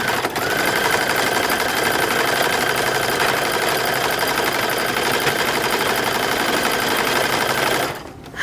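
Sewing machine stitching the midriff front of a 1940s-style bathing suit, a loud, close, continuous whirring hum that runs steadily, then stops abruptly near the end.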